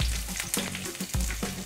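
Sliced onions drop into hot oil already holding chopped garlic for a spicy water chestnut dish, setting off a loud, close sizzle punctuated by a few sharp spatters and clatters, with no talking.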